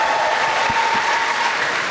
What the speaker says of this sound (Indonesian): sekali lagi kita berikan aplaus untuk Alvin